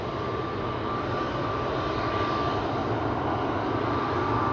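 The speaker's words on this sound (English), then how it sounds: "Here we have KLM A321neo." A KLM Airbus A321neo jet at an airport, its engine roar steady, broad and fairly loud throughout, with no voices.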